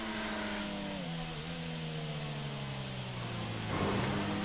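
Car engine revs in a GTA V Online race video game, a continuous mid-pitched engine drone whose pitch sags and shifts between gear changes, steady and fairly quiet without talk.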